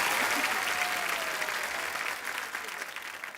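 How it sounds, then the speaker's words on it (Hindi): Sustained studio audience applause on a Hindi television comedy talk show, a dense wash of many hands clapping that stays steady and gradually thins toward the end, with no talking over it. "इलियाना के लिए जोरदार तालियां।"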